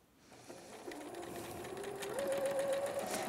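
A sewing machine runs steadily, stitching a regular seam in fabric, a continuous quiet mechanical whir with a rapid rhythmic ticking that speeds up slightly toward the end, close and alone.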